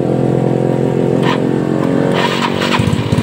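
A Yamaha Mio Soul motorcycle with a starting fault is cranked to start, producing a loud, close, continuous mechanical engine drone with a shift near the end and no speech.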